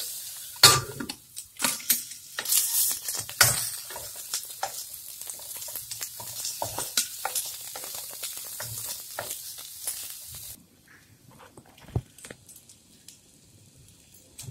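Onions sizzle and fry in a pan for a cauliflower masala curry while a spoon stirs and clinks against the metal. The close crackling runs steadily for about ten seconds, then drops away to near silence with one more clink.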